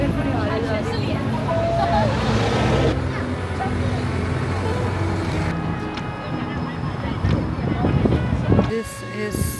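Strong wind blowing outdoors in London near Big Ben, a steady, loud broadband rush that swells toward the end, with people talking over it.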